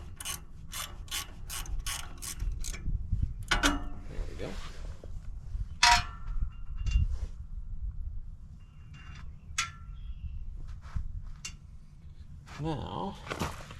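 A wrench ratchets a nut on a John Deere 787 strip till, a rapid run of sharp metallic clicks at the start followed by scattered clicks, clanks and handling noises up close, with someone talking at intervals.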